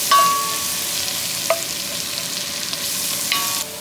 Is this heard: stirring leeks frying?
yes